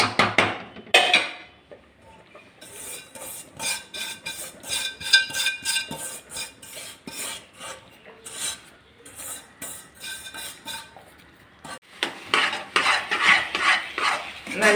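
Tomato rava upma is stirred in a nonstick pan, bursts of rapid scraping and rubbing strokes of a spoon against the pan alternating with quieter pauses, close and fairly loud.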